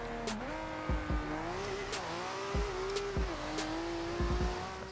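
A 2JZ-swapped Subaru BRZ in Forza Horizon 2 revs and shifts, its engine pitch climbing and dropping through gears, with sharp tire chirps and brief squeals scattered over the steady drone.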